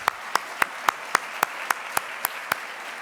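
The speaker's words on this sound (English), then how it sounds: "I would love it if you would just join me in applauding them one more time." A single pair of hands clapping at a luncheon in a slow, even rhythm, about ten sharp claps close by with no voices.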